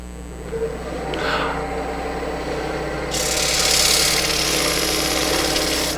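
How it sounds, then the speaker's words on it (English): A wood lathe running in reverse while sandpaper rubs a spinning bowl, a steady mechanical hum under a scratchy abrasive rasp that grows louder and brighter partway through. "I'm going to want to reverse the lathe for this first pass of sandpaper"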